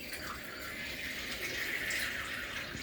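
Water pours steadily from a small bowl into a pot for spicy pumpkin soup, a continuous close splashing stream without talk.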